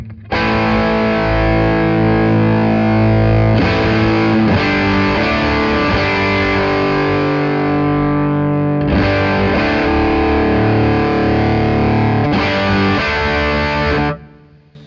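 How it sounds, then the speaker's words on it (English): Heavily distorted, saturated electric guitar playing continuously and loudly through stacked overdrives with a plexi drive pedal, sustained chords with brief breaks around a few strums, no talking. "So of course it just gets more distorted and saturated"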